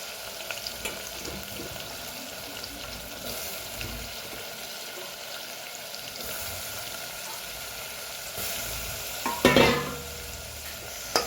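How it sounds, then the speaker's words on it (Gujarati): Potatoes with lemon frying in a pan, a steady sizzle under repeated scraping and stirring, building toward a louder burst of mixing near the end, with no talk. "સરસ મિક્સ કરી લઈએ"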